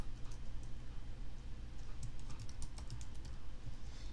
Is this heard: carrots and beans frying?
no